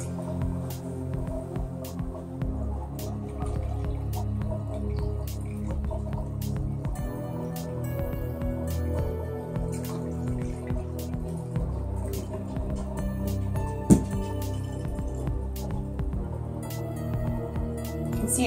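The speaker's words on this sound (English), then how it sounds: "Pour it in there and strain through." Dandelion mead drips and trickles through a strainer and funnel, a soft steady liquid patter over a low hum, with a few small clinks and one sharp tap near the end.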